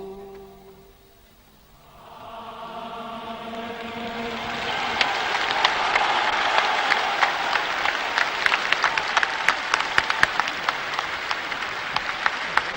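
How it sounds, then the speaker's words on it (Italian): A large crowd applauds and cheers the newly elected Pope Paul VI in 1963, the clapping swelling from quiet into a loud, sustained roar of hands that stays dense and steady to the end. "Non abbiamo bisogno di spendere parole per sottolineare il tripudio di questa folla"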